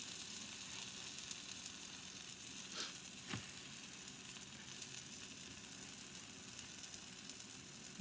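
Pancakes sizzle quietly on a hot griddle, a steady faint hiss with a couple of brief scraping taps, no voices.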